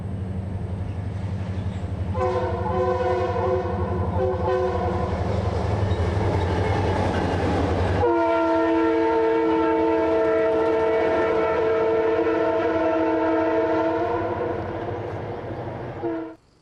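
A freight train horn plays the "shave and a haircut" rhythm as a series of loud, sustained chord blasts, the last one held long, over the low rumble of a passing CPKC track evaluation train.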